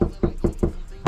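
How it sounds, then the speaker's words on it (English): Knocking on a house door during a grocery or food delivery: five quick, evenly spaced raps, close and fairly loud, with no voices. "Knock on the door."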